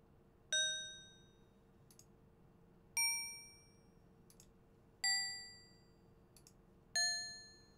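Four clear metallic chimes from the Legend of Kyrandia video game ring out one by one at steady intervals of about two seconds, each fading away, with faint jingles between them.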